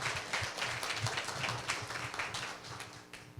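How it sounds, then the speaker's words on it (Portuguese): A round of clapping from a group gathered in a training session, dense and steady for a few seconds at moderate distance, fairly soft overall and without talk over it. "Uma salva de palmas para nós."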